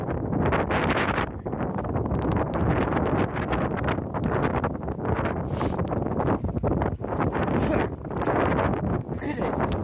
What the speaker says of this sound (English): Well, you can't see wind, but today you can. Just look at it. It's Cornish wind.